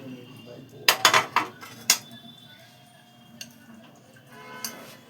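Fried potato dropped and mixed into beaten yogurt for an aloo raita, giving a brief burst of clinking spoon-on-bowl and stirring clatter near the start, then quieter scraping taps in a home kitchen.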